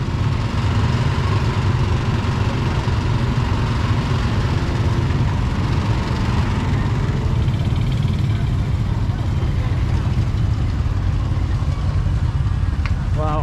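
A dense throng of motorbikes idles and creeps forward at a crowded vaccination site in Luang Prabang, Laos, a loud, unbroken low engine rumble with people talking over it.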